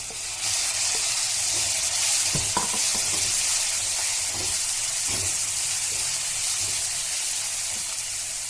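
Tomatoes hit a hot frying pan for a stuffed brinjal curry, a loud continuous sizzle and hiss with a few clattering stirs of a spoon, no voices.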